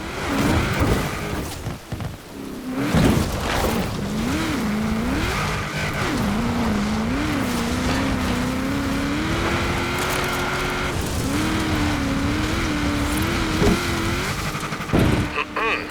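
A Willys MB jeep driven in Forza Horizon 4, its engine droning steadily with rising and falling revs and occasional tire noise, loud and close for the whole stretch.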